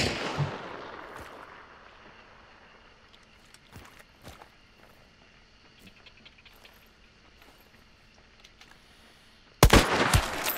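Gunfire in the Hunt: Showdown video game: a sharp, close shot at the start, a few faint distant cracks scattered through a quiet stretch, then a loud burst of rapid shots at the very end.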